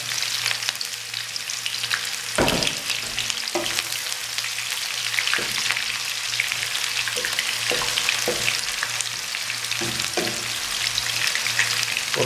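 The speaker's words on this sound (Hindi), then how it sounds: "और प्याज को हम अच्छी तरह ब्राउन कर लेंगे" A medium onion frying in ghee with spices for a vegetable pulao, sizzling loudly and steadily up close, with a few sharper clinks and scrapes of stirring and no talk.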